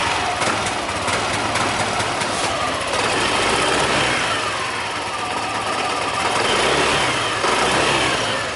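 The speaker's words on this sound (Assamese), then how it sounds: "এতিয়া আপোনালোকক য়ামাহা এৰক্সৰ এক্সজষ্ট আৰু ইঞ্জিনৰ চাউণ্ডটো শুনাই দিছোঁ।" Yamaha Aerox 2024 scooter engine and exhaust revving up and down repeatedly, loud and close throughout, with no voices over it.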